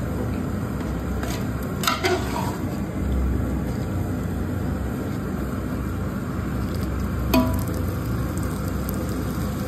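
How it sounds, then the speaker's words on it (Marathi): Chicken biryani masala cooks in a pot over a gas flame, giving a steady, even sizzle throughout with a couple of faint metallic clinks. "त्याला थोडंसं शिजून घ्यायचा मसाला."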